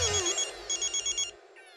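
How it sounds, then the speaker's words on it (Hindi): A telephone rings with a bright electronic trill in quick repeated pulses, loud and close, stopping after a couple of cycles. "आपका फोन है"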